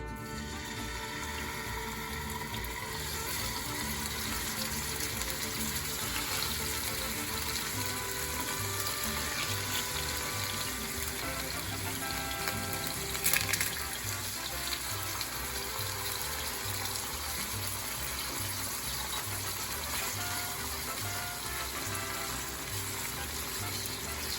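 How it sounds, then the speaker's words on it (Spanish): Pork chops frying in hot oil over medium-high heat, a steady close sizzle and crackle that runs unbroken throughout with no talking. "Ok, ya se calentó el aceite, ahora vamos a poner las chuletas."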